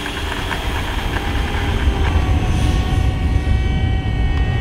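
A Hobbyking Yak 54 30ep 1280mm electric RC model airplane roaring at full throttle, a loud continuous motor and propeller whine holding steady with no voices.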